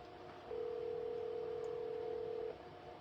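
A steady electronic telephone tone sounds for about two seconds as a call goes out before reaching voicemail, clear over a faint background hum.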